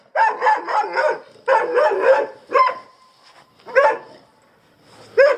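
Dogs bark close by on a forest walking path near Kerpe in several rapid bursts, clusters of sharp barks separated by short pauses, loud and alone.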